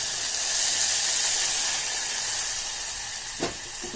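Misal masala sizzles in hot oil in a pan, a steady loud hiss that holds throughout with a brief sharper crackle near the end and no talking.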